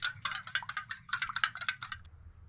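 An egg being beaten with a spoon, with salt added: quick rhythmic clinks and scrapes of the spoon against the bowl, about a dozen close strokes over two seconds, then stopping.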